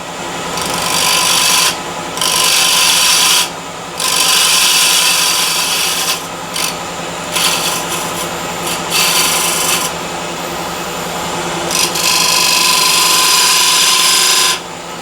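Hornbeam wood turning on a lathe at 1400 RPM, cut with a small 12 mm skew chisel: a loud, close, continuous rasping shear that breaks off in several short gaps as the tool lifts and returns.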